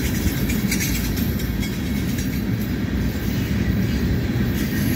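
A CSX ethanol freight train led by a CN EMD SD70M-2 locomotive rumbles past close by, a loud continuous roar of heavy cars rolling over the rails with faint metallic squeals.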